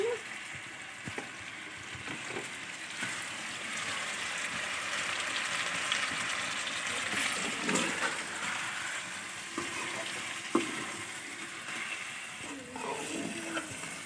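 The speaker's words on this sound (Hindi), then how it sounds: "अच्छी तरह जी सारे मसालों को फ्राई कर लेते हैं।" Spices with turmeric, red chilli powder and crushed red chilli frying in oil for chicken karahi, a steady broadband sizzle with occasional scraping stirs, fairly close and continuous throughout.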